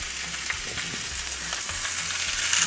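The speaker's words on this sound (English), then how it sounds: "we're griddling our lovely beef" Beef sizzling on a griddle pan over a bottled-gas burner in a restaurant kitchen: a dense, steady crackling hiss, close and loud, with a few faint low tonal hums underneath and no speech.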